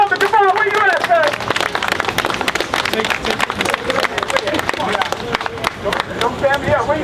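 An audience claps and cheers to welcome Elder Gabar, a Hebrew Israelite, at a gathering. The applause is a steady patter of claps throughout, with people talking loudly over it.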